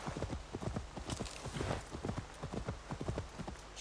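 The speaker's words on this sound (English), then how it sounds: "Now let's get our horsey." Hooves of a horse in Assassin's Creed Valhalla clip-clop in a quick, even trot, close and continuous, with faint ambient game sound underneath.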